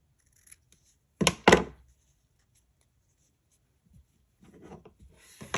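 Scissors trimming a small paper file-folder clip tab, two quick close snips in succession followed by faint rustling of paper, with no talking.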